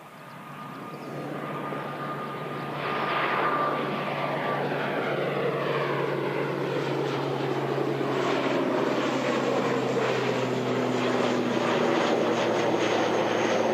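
An aircraft in black livery approaches Christchurch Airport, its engine noise rising from a moderate hum to a loud, sustained roar, with a steady low drone and a falling whine as it nears.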